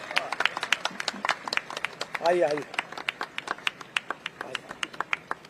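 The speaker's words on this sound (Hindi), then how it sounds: "आदरणीय मनोज जी आए, उनका ताली बजाकर स्वागत करिए।" Audience at a political speech clapping to welcome an arriving guest, a sparse, steady run of individual hand claps close by, with a brief spoken greeting partway through.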